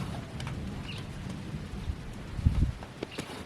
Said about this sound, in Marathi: पण गडगडत आहे भरपूर.